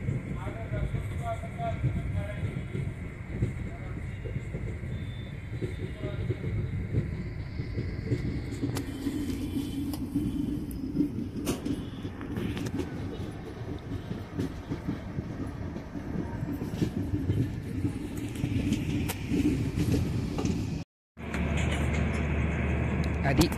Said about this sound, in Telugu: ఇప్పుడే ట్రైన్ అలా కదిలింది.